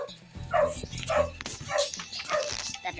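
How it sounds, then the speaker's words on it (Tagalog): Dog barking about five times in a steady rhythm, close and fairly loud, with yippy, slightly whiny barks over light background noise. "ang ingay ng aso namin."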